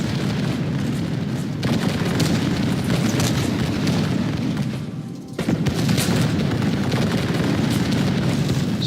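Artillery fires in a Medieval II: Total War Kingdoms battle with Italian Wars mod units, a dense, loud rumble of booms and bursts rolling continuously with a brief dip midway before resuming, without speech.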